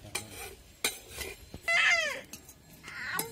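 Rice roasting in a pan for kheer is stirred with a metal spoon, making a few sharp clinks and scrapes against the pan with a brief louder rasp midway, close and fairly quiet.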